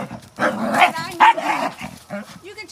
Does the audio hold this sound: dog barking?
yes